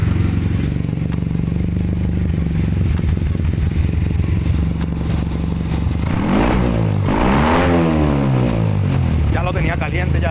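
A King Road 650 motorcycle engine, fitted with reworked exhaust and carburetor, runs loud and steady from up close, with several rising revs late on and talk over the engine throughout.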